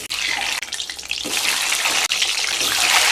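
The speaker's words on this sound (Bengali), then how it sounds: "এবার ডিমগুলো ভেজে নেব" Eggs frying in hot oil, a loud, dense sizzle and crackle that runs continuously with a few brief dips.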